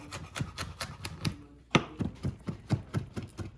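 A knife chops mint leaves on a cutting board during home cooking, a steady run of about a dozen close, sharp knocks in an even rhythm with one louder strike midway.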